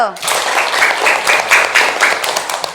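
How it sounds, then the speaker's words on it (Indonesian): Students in a classroom clap for two classmates, a burst of rhythmic group applause with voices mixed in, near and loud, after a brief opening voice. "Kita kasih aplaus dulu untuk Zaki dan Rindu"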